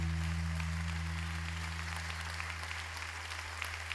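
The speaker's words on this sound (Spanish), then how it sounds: "Un aplauso para Fernando Torrado" Faint applause for Fernando Torrado at a candombe tribute to Jorge Goulart, a soft, steady patter of clapping heard over a low electrical hum.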